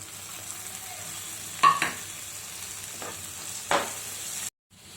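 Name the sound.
frying onions with soaked chana dal in a pan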